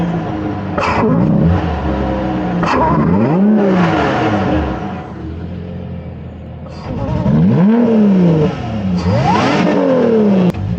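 A supercharged V6 in a mid-engine Lotus Evora GT sports car revs loudly in repeated rising and falling sweeps, heard up close from inside the car with brief lulls between the pulls.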